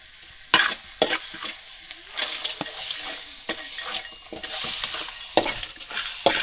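Food sizzles and crackles in a hot pan while a utensil scrapes and stirs repeatedly, close up, with clatters of metal throughout.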